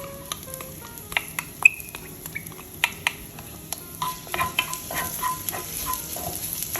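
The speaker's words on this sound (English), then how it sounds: "And we're gonna put some minced garlic here. And we're gonna saute that first." Minced garlic and shallot sauté in a Staub cocotte with a steady, close sizzle, punctuated by sharp clicks and scrapes of a utensil stirring against the pot, with no one speaking.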